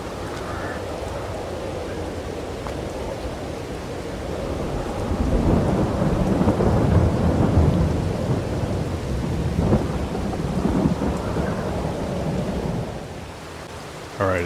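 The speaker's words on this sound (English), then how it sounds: "I guess we're gonna wait for the rain to stop" Steady rain pours in Farming Simulator 22 while low thunder rumbles, building into a heavy, rolling swell in the middle before easing back to a constant wash of rain.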